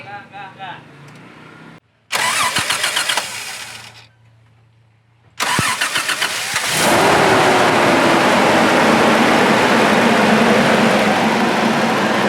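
Toyota Land Cruiser FJ40 hardtop from 1980 with a 4000cc engine, starting with short bursts then settling into a loud, sustained rev that holds steady near the microphone; faint voices are audible early on.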